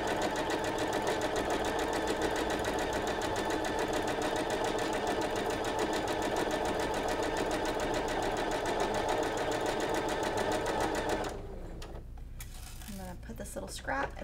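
A sewing machine runs continuously while stitching quilt fabric, a loud fast rhythmic whirr that stops abruptly near the end, leaving a few handling sounds.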